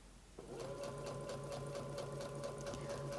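Sewing machine stitching across a seam intersection of quilt pieces for a bridal bouquet nosegay block, a steady close, continuous mechanical whir with a fast regular needle pulse throughout.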